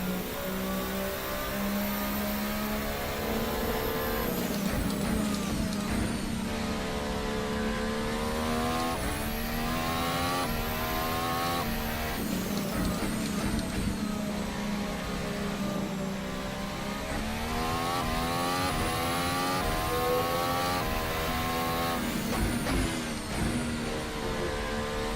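A race car in the Formula Hybrid 2018 video game drones through a lap on soft-compound tires, its engine pitch sweeping up and down through gear changes and corners, loud and continuous with no talk.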